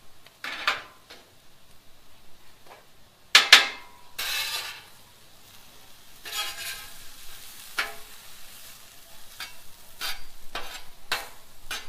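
Pasta cooks on a Blackstone griddle in bursts of sizzling and scraping, with sharp spatula clatters against the metal surface and quieter hissing in between, close and without talk.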